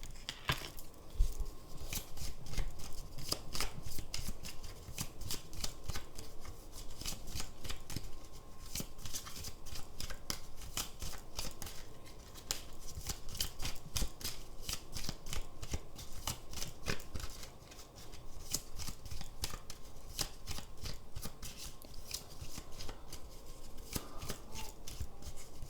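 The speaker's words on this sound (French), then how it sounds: "Je vais mettre les cartes là pour que vous puissiez les voir." Tarot cards are shuffled and laid out on a table, a quiet, continuous stream of soft card rustles, slaps and rubbing sounds, close and faint, without talk.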